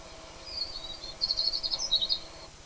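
Faint, high chirps and trills from several birds overlap into one soft chorus, heard from a distance over quiet background hiss.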